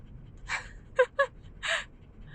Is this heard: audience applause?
no